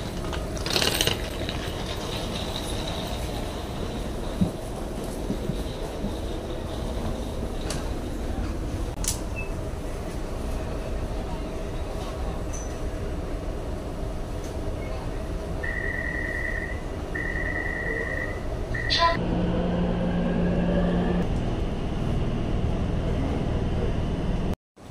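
A metro train arrives at a Taipei station amid constant mechanical rumble and platform ambience, followed by a short repeated electronic chime or tone and a brief braking hiss near the end.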